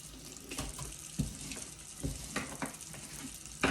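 A water tap runs into a sink to rinse a paint brush, making a soft, continuous splashing. Faint knocks and swishes come and go as the brush is worked under the stream.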